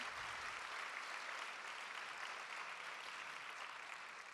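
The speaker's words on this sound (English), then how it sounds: "They're over here, so please, everyone, give them a round of applause for pulling this together." Audience at a film screening event for documentaries by Mexican filmmakers breaking into applause, a smooth, continuous hiss of many hands clapping, fairly faint and even, tapering slightly at the end.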